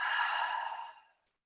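A single full exhale through the mouth, a close, breathy rush of air that gradually fades out over about a second into silence.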